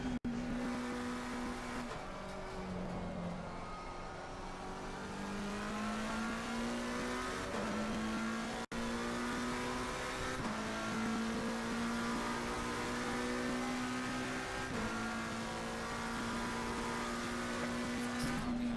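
Race car engines in Assetto Corsa Competizione at the Hungaroring, a loud sustained engine tone climbing and dropping through gear changes, revving up repeatedly with a brief sharp break midway, no talk.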